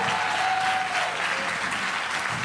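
Audience applause at the close of an evening show, a loud continuous burst of clapping from a crowd with a brief whistle-like tone riding over it.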